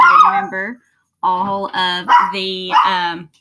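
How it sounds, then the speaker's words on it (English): A small dog yaps several times in quick, high-pitched bursts, mixed in with a person talking nearby. "And sorry about that little barking."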